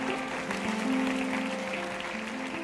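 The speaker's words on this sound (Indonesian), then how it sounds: "Kasih tepuk tangan untuk Tuhan Yesus." Church congregation applauding at a sermon, a steady broad wash of clapping with a sustained tonal hum or organ-like note underneath, moderately distant and continuous throughout.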